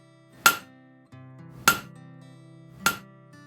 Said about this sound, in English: using the rounded portion of that hammer, I am going to push and pull the metal out from the main bar